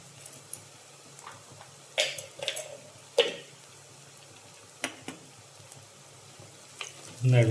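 Turmeric powder stirred into onions frying in oil for a beef liver roast: a soft, low sizzle broken by several sharp scraping and clinking stirs of a spoon against the pan, near and fairly quiet.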